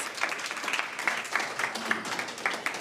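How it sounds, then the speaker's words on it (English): An audience at a youth entrepreneurship programme launch gives a brief round of applause, scattered claps rattling at moderate distance for a few seconds. "Can we please also give them a round of applause?"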